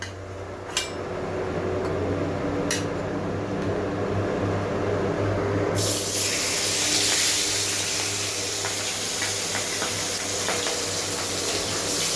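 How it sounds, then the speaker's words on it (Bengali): Pieces of katla fish drop into hot oil in a home kitchen. After a quiet stretch, a loud, steady sizzle suddenly bursts up and keeps going, close by, with no voices. "তেলটা আমার গরম হয়ে গিয়েছে, এখন আমি মাছগুলোকে দিয়ে দেব।"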